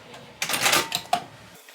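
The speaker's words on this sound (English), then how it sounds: "I'm just slipping that zipper tab on there and top stitching around." A home sewing machine top stitches a zipper tab onto a tote bag, a short burst of rapid mechanical stitching close by, followed by a click and quiet.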